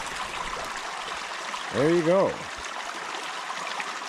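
Water from a creek runs steadily out of a pipe with a soft, constant trickle, and someone speaks briefly partway through.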